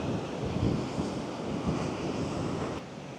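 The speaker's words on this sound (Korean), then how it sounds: "파도가 장난 아닙니다" Surf crashes and churns against the shore of a beach in Da Nang, Vietnam, amid heavy gusting wind buffeting the microphone, a loud continuous wash of water.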